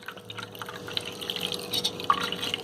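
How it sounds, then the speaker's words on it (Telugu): Whey drips and trickles through a cotton cloth as fresh paneer is strained for homemade rasmalai, a faint, steady patter of small drops close by in a quiet kitchen. "వేసుకొని ఈ వాటర్ మొత్తం అందులోకి పోసేయాలి. వాటర్ అంతా కిందికి వెళ్ళిపోయి"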